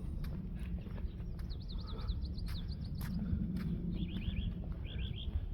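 Birds call in the morning beside a water reservoir, clear warbling trills and repeated chirp phrases standing out over a constant low background rumble, with no voices.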